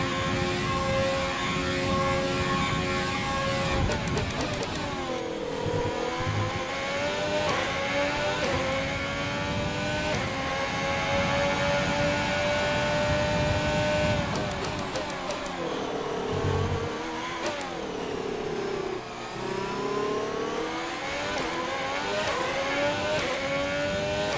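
Formula 1 car engines in the F1 2020 game, a loud, steady high-pitched whine that rises and drops through gear shifts, with several sharp downshift dips as the car brakes and accelerates again.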